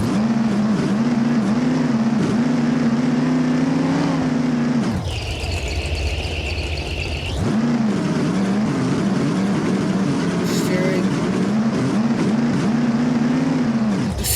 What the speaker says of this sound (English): stuttering sound of the engine is insane too